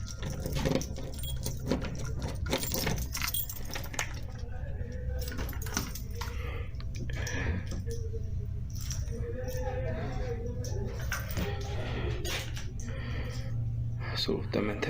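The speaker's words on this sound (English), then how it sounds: "You need less keys on that thing." A bunch of keys jangles on a ring amid steady background noise while people talk over it.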